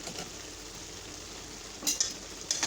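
Bitter gourd and potato fry in a pan while being stirred, a steady sizzle broken by two louder bursts of scraping and clattering utensil strokes toward the end.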